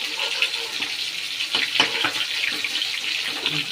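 A steady hiss of oil frying snakehead fish close up, with occasional clinks and scrapes of a utensil moving in the pan.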